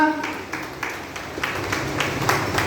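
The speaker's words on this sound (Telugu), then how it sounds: "చప్పట్లు కొట్టి కనపరచండి అమ్మా" An audience at a prayer meeting for a half-saree function claps hands in a steady rhythmic beat, a few loud claps per second, close and fairly loud, with a voice faintly underneath.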